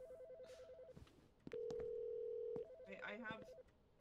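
Telephone ringing unanswered in a video game office stationery-supply setting, a repeating warbling electronic ring tone with a long steady tone in the middle, then more ringing under a brief voice.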